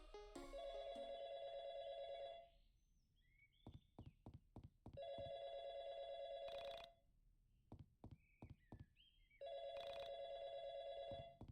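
An old-style telephone bell rings in the video game YIIK, coming in three long bursts that are broken up by rhythmic knocking and clip-clop taps, with short chirpy electronic blips in the gaps between the rings.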